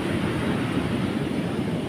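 Large storm waves churned up by typhoon Uwan form a steady, dense roar close by, with no break or distinct crash standing out over the two seconds.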